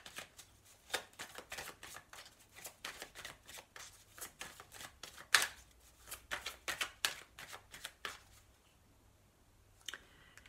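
A deck of tarot cards is shuffled up close, with quick rhythmic riffles and flicks repeating for several seconds before tapering into a few soft taps near the end.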